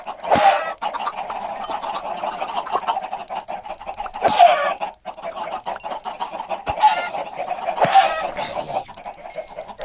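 Chickens in Minecraft cluck repeatedly in short bursts over a busy backdrop of overlapping fowl noises, fairly close and loud.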